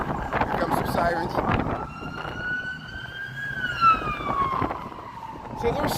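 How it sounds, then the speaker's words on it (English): Sirens wail in the distance, rising and falling over wind noise and street sounds in downtown Chicago's Loop. "Here comes some sirens."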